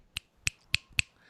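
Four crisp, evenly spaced finger snaps offered as applause at an online stay-at-home open mic, close and clear against near silence.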